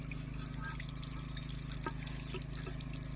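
Tap water running into a sink while dishes are washed, a continuous soft splashing stream under a low steady hum, with faint clinks and drips.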